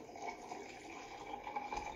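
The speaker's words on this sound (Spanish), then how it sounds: "Ahora vamos a poner, agregar agua." Water poured into a blender for a mint and lemon drink, a faint, continuous splashing trickle with light clinks of kitchenware, no talking.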